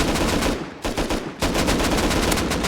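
Rapid automatic gunshots in the survival video game Rust, a loud, steady stream of close shots broken by a couple of brief pauses, with no voices over them.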